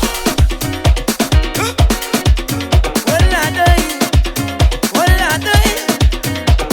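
Soca track: a loud, driving mix of thumping bass drum, busy percussion, brassy stabs and sung vocals pushing forward at a brisk dance tempo.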